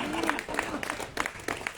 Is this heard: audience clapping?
yes